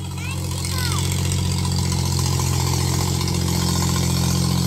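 A tractor engine runs steadily in a field while the ground is being dug, a continuous loud low rumble throughout with faint bird chirps above it and some talk mixed in.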